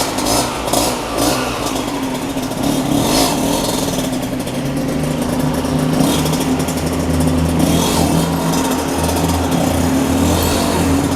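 A Honda MTX125R motorcycle engine drones steadily while being ridden, a close, buzzing two-stroke-like tone holding fairly constant pitch with slight rises and wind rush, and no talking.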